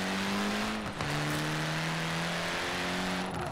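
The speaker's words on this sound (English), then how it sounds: "But it does spin tires" A 450-horsepower Saleen supercar in Forza Horizon 4 revs hard with its tires spinning, a loud, steady engine drone that dips briefly and then holds a high pitch, close and continuous.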